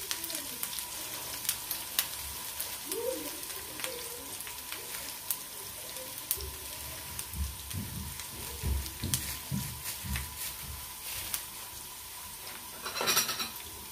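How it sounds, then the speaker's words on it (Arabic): Soft, steady sizzling of onion frying in a pan, with occasional scraping and stirring sounds and a few clicks. "هقلب كده البصلاية على النار"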